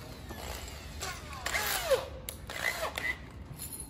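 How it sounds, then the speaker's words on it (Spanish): A power drill drives 1x10 screws into an aluminum window frame in a few short whirring bursts, close by, with brief pauses between, over a steady background hiss. "Taladro."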